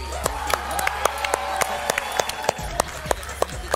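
A crowd at a summer tennis-football tournament gives thin, scattered applause, individual claps standing out sharply over a steady background murmur, with voices talking.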